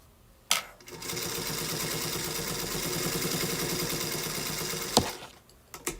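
A sewing machine runs steadily, stitching a seam for about four seconds between brief starting and stopping knocks, loud and close with no talking.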